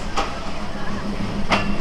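The Titumir Express passenger train idles at Joypurhat station, a loud steady rumbling hum broken by two brief hissing bursts, with voices nearby.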